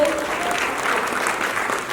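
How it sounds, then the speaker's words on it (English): An audience at a celebrity awards ceremony breaks into a big round of applause, a full, steady roar of clapping from a large crowd that fills the whole stretch. "Big round of applause for the very beautiful,"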